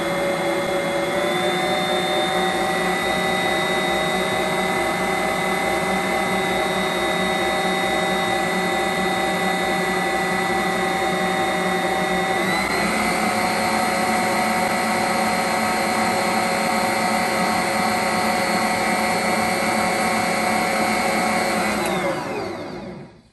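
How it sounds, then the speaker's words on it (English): An electric stand mixer runs while kneading whole wheat bread dough for hamburger buns, giving a loud, steady motor whine that shifts pitch partway through and stops abruptly near the end, with no voices. "mixer on, and we'll mix that together"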